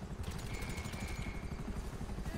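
A helicopter in the video game GTA V throbs with rapid, rhythmic rotor thumps, steady and fairly close with no talk over it.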